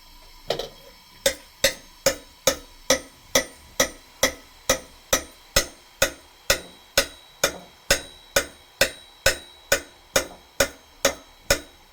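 Steady, evenly spaced sharp metallic taps of a ladle, about two per second, knocking boondi batter into hot oil for motichoor laddu. The taps are loud, close and continue alone without pause.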